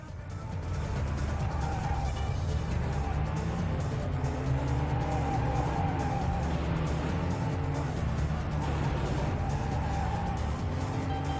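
Racing car engine from the PS1 game Vanishing Point, a steady loud drone held at constant revs through the whole stretch, with a faint tire-squeal edge and no talking.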